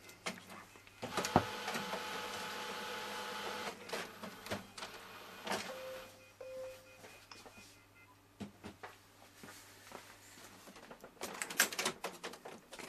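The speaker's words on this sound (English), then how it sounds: "We turn on the printer." An Epson WF-7620 inkjet printer powers on with faint whirring and a run of mechanical clicks and clunks from its internal carriage, heard fairly close in a quiet room with no talking.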